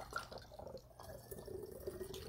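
Filtered water poured into a cup, a quiet trickling and dripping with a rising hollow fill tone, close but faint, lasting a couple of seconds without speech.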